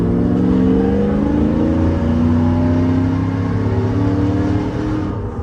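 Supercharged 2010 Chevrolet Silverado pickup engine held at half throttle, a loud, steady close-up drone with a rising whine that runs unbroken for the whole stretch, no voices.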